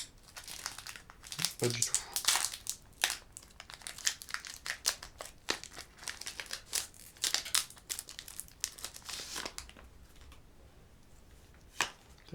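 A Pokémon card booster pack from the Cosmic Eclipse set, featuring Lunala and Solgaleo, is torn and worked open, with a long run of close, irregular foil crinkles and rips while someone talks briefly.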